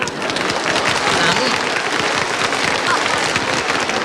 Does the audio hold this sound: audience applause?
yes